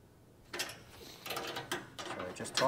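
Kaon roof shelf bolts for a JB74 Jimny being tightened, giving quiet intermittent ratcheting clicks and metallic turning sounds in short bursts, fairly close but faint.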